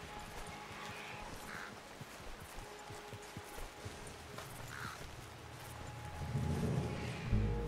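Horse hooves clip-clop at a steady walking rhythm in the Red Dead Redemption video game, soft and moderately close, with a low rumble swelling near the end.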